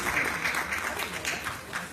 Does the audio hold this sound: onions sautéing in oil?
no